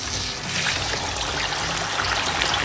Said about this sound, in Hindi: चिकन को सबसे पहले फ्राई करूँगा।